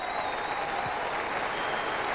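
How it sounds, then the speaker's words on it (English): Cricket Test match crowd applauding a boundary four, steady broad clapping from a large crowd at a distance, sustained throughout without a break. "the crowd here enjoying it"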